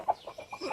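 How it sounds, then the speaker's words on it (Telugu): Rasangi (Aseel) hen on a Bhimavaram breed-poultry farm clucking in a quick series of five short, close, moderately loud notes, with no voices. "ఈ రసంగి పెట్ట కనిపిస్తుంది"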